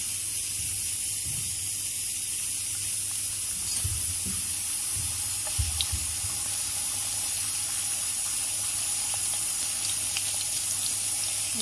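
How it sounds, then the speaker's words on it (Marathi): Kadakani, maida dough pieces, frying in hot oil: a continuous close bubbling hiss held evenly across the whole stretch, with faint low knocks underneath. "तर आता आपण कडकणी टाकूया तेलामध्ये"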